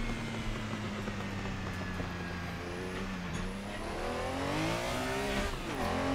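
A Porsche-developed Clio race car engine in the Assetto Corsa racing game drones steadily at a constant pitch, then revs and climbs near the end. Tire noise and other cars sit underneath, and no one speaks.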